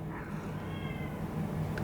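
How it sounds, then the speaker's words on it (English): An indoor cat meows faintly somewhere in the room, a soft drawn-out call over low background hum, with no speech. "Don't know what's going on with my cat."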